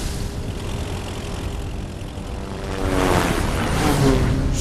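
Helicopter in the video game Final Fantasy VII Remake, a steady mechanical engine drone that grows louder and closer partway through, with a faint rhythmic rotor pulse.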